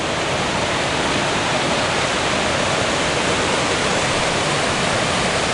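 Waterfall in South Cascade Canyon along the Teton Crest Trail, a steady, loud, full-band roar of falling water with no talk over it.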